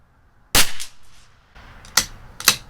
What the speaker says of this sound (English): Let's see if we can get the last shot in with the rest of the group.